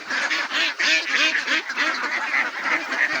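A flock of domestic ducks quacks continuously and close by, with overlapping nasal calls in a steady chatter, with no talking.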